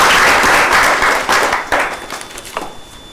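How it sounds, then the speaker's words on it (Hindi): Audience applause for a birthday at a spiritual discourse gathering, a steady burst of clapping from a seated crowd that fades out over about three seconds. "सब लोग ताली बजाएंगे।"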